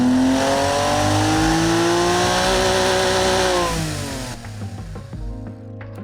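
A virtual car engine in a car design video game revs steadily and loudly, its pitch sweeping slowly up and down for several seconds, then drops off into quieter, uneven idling with a few faint clicks.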